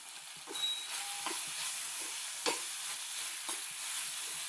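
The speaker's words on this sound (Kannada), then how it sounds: "ಹಾಗೆ ಆಯಿಲಲ್ಲೇ ಫ್ರೈ ಮಾಡ್ತಾ ಇದ್ದೀನಿ" Grated potato fries in oil with a soft, steady sizzle and hiss, punctuated by a few brief scraping stirs, quiet and close with no voices.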